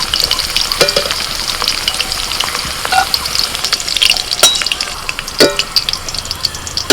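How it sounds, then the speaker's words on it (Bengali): Bay leaf, cardamom, cinnamon and cloves crackle and sizzle loudly in hot oil in a pan, a continuous close frying hiss broken by occasional sharper pops and stirring scrapes, with no talking. "ওই তেলের মধ্যে দিচ্ছি তেজপাতা এলাচ দারচিনি লবঙ্গ"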